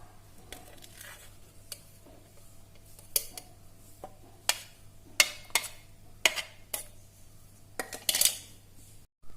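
Blended onion is pressed through a strainer into a bowl, heard as quiet wet squishing with a series of sharp metallic clinks and taps of utensil on strainer over a faint steady hum.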